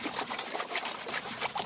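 A classifier screen for gold panning lowered and worked in a small tabletop pond, giving close splashy trickles and bright sloshing water.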